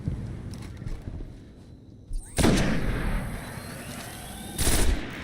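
Sniper rifle shots in Destiny 1, a couple of sharp loud cracks standing out over a steady background of game ambience, with a further burst of fire near the end.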